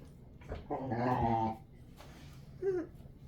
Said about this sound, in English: The two puppies are playing, as always.